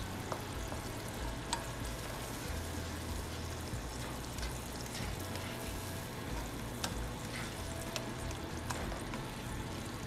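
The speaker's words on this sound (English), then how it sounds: "then you add 1/2 cup of red wine. Any old red wine is fine. Stir that a bit. Let everything simmer for around 20 minutes or so." A pan sauce with red wine simmers on the stove, giving a steady, low bubbling sizzle with faint pops throughout, close and continuous with no talking.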